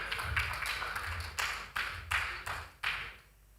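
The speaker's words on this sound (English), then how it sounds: "PDG Tunji Funshaw, please join me in welcoming him upstage with a round of applause." Audience clapping at an Africa polio-free certification celebration as a speaker is welcomed on stage: a short burst of applause with several sharp claps standing out, fading toward the end.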